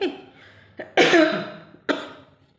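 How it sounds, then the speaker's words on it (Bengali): Three harsh coughs, close and loud, spaced unevenly with short quiet gaps between them. "সরি আমার কাশি হয়েছে"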